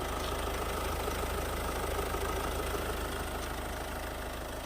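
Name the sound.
Ford Focus 1.6 diesel engine idling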